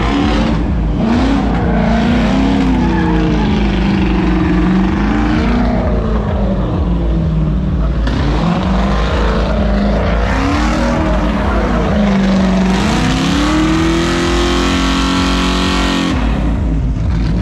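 A 1000 hp drift car on a track heats its tires, its engine roaring loudly and continuously with the pitch repeatedly rising and falling through revs.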